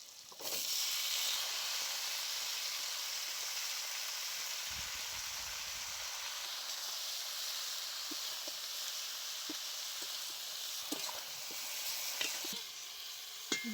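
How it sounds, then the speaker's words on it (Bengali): Bottle gourd stems and ridge gourd drop into a pan of fried potatoes with salt and turmeric, setting off a strong, continuous sizzle with occasional stirring clicks and scrapes. "এবারে লাউ ডাঁটা ঝিঙেটা দিয়ে দিচ্ছি।"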